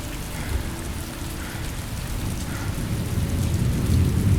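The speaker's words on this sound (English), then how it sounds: "And now he is standing in the rain." Heavy rain pours steadily with low rolling thunder beneath it, a dense constant hiss that swells slightly louder toward the end, with no voices.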